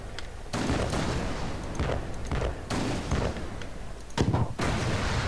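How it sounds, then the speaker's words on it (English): Cannon fire in the naval battle of the video game Alice: Madness Returns, with sharks, mines and depth charges nearby: several loud, booming cannon blasts about two seconds apart over a continuous rumble of battle noise. "Left mouse button, fire cannons."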